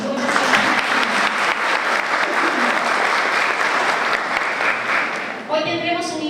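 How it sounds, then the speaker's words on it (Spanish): Audience at a panel on psychology in the Dominican Republic breaks into loud, sustained applause that fills the room steadily before cutting off near the end. "para lo cual pedimos un fuerte aplauso"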